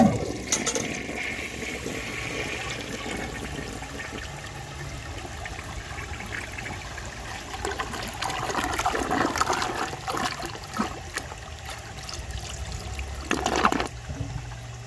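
A 1960 Rheem-Richmond Claymore toilet with large rim jets and an unusual siphon flushes, with a close rush of water that settles into trickling, then a louder surge near the end.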